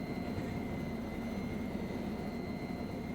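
A helicopter flying in the VRChat video game gives a steady, loud, close rotor and engine drone that holds constant throughout, with no talking.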